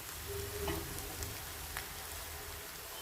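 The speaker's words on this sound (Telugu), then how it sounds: "సన్న సెగ మీద లైట్ గోల్డ్ కలర్ వచ్చే వరకు వేయించుకోవాలి ఇవంత ఉల్లిపాయలు చక్కగా వేగిపోవాలండి" Onions frying gently in a generous amount of oil over a low flame for a Telugu egg curry, giving a steady soft sizzle that stays faint and even throughout, with no voices.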